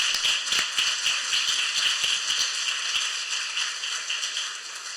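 Dense, steady clapping from a sizable crowd, crisp and continuous throughout with no voices standing out.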